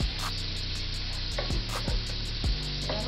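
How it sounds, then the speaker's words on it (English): Shrimp fry and sizzle steadily in a hot pan for fried rice, with several scraping strokes of a utensil as they are stirred, close and continuous. "All right, so we're just giving our shrimp a stir."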